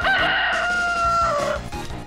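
A rooster sound effect gives one loud, close cock-a-doodle-doo lasting about a second and a half, sliding down in pitch at the end, over a steady low background rumble.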